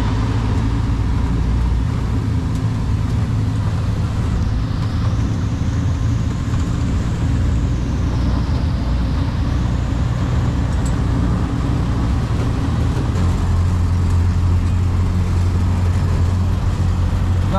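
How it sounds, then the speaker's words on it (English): A car engine-brakes down a steep highway on Siquijor Island in the Philippines, its weak brakes leaving the engine to hold speed in a steady, loud drone that shifts pitch partway through, with road noise and no talk. "An engine braking."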